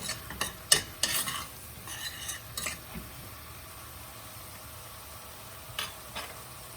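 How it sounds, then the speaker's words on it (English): Onions for a cheese and onion pie filling sauté in a pan, a soft continuous sizzle broken by several sharp scraping stirs early on and a couple more near the end, heard close up. "We're going to leave these onions to saute for a little bit for about 10 minutes"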